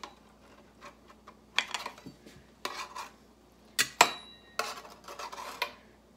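A metal spatula scrapes and clinks against a baking pan as cookies are lifted off, with scattered sharp taps and a few louder scrapes in a quiet kitchen.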